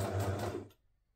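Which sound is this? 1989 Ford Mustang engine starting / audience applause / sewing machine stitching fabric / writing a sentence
sewing machine stitching fabric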